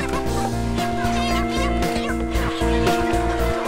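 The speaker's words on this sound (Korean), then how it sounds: "병아리 때부터 케이지에서 자란 닭들," Caged chickens on a cage farm cluck and call continuously from close by, with talk heard over steady background music.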